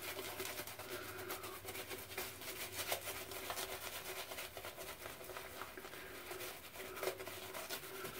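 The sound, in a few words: lathering Wholly Kaw Jamestown Gentlemen shave soap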